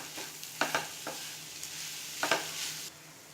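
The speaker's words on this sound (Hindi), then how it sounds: "पनीर को भी मसालों में अच्छे से मिक्स कर लेंगे" Mashed paneer being stirred into spices in a pan for stuffed capsicum, with a few distinct spoon scrapes and knocks over a faint, steady sizzle, close and moderately quiet.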